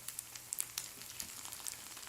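Spaghetti all'assassina pasta frying in plenty of oil with surimi in a pan gives a faint, steady sizzle, broken by scattered small pops and crackles, with no voices.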